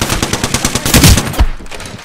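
Automatic weapon fire in the video game Apex Legends on PS4 Pro: a loud, close burst of rapid, evenly spaced shots that runs for about a second and a half, then cuts off to quieter game ambience.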